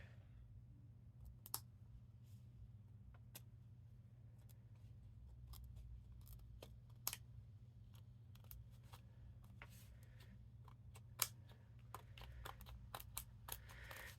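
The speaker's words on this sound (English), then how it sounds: "I gotta be able to get to the acetate to trim it off" Scissors trimming acetate on a handmade shaker Christmas card, a series of sharp isolated snips and clicks spread across a quiet room with a steady low hum beneath.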